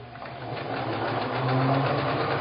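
A sewing machine runs steadily while stitching a spiderweb quilt, a continuous close motor whir with a fast, even needle chatter that builds slightly in loudness across the short stretch.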